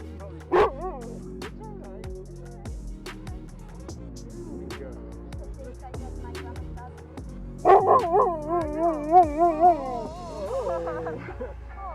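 A dog named Mellow, a husky type, gives a sharp bark early on, then a run of whining, howl-like yips and vocalizations later, with people talking softly nearby throughout.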